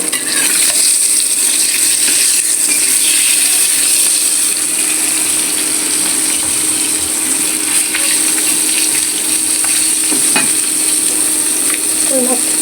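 Koi fish frying in a pan, a loud steady sizzle of hot oil that holds evenly throughout, with occasional light stirring and scraping clicks mixed in.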